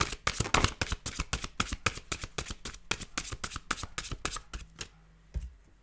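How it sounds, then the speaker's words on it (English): Tarot cards shuffled by hand in a rapid run of crisp, rhythmic riffling slaps, close and fairly loud, ending with a pause and one last soft tap. "And they want only that one, so I can stop shuffle."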